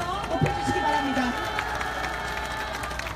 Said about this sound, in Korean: 여러분 큰 박수 함성으로 이 자리의 의미를 더 높여주시기 바랍니다